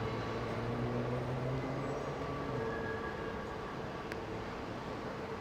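Train rumbling near a city station in New York, a steady, moderately loud mechanical drone with faint tonal whines and a brief sharp click, without voices.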